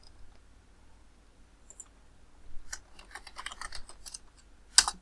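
Typing on a computer keyboard: quiet scattered key taps at first, then a quick run of close, crisp keystrokes ending in one louder sharp press, with no voices.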